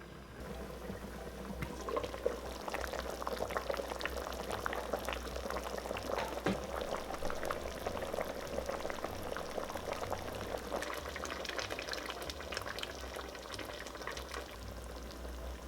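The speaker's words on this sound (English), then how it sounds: "And continue to simmer for another 40 minutes." A pot of beef short rib stew with carrots simmers steadily, giving a continuous close bubbling and gentle popping at an even level throughout, with no voices.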